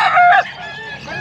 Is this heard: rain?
no